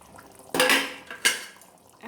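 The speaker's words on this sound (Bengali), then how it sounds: "এবার ঢাকাটা তুলে আমি একটু দেখে নেব।" A lid comes off a pot of simmering chicken curry with a bright metallic clank, then a second clink as it is set down or tapped, close and brief over quiet background.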